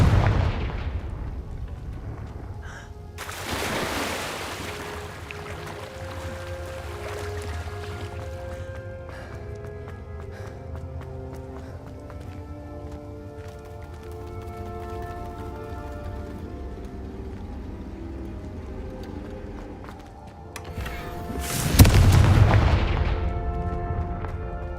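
Confringo blasting spell explosions in Hogwarts Legacy: a loud boom at the start, another blast a few seconds later with a long tonal ringing decay, and a final heavy explosion near the end.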